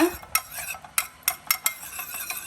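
A metal spoon scrapes and clinks against a pan as camphor is stirred into melted ghee, with a handful of sharp, quick taps spaced irregularly over a soft background hiss.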